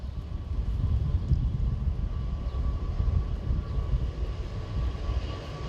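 A passing train at an outdoor political rally: a steady low rumble with a faint tonal hum, continuous and fairly loud throughout, with no voices over it.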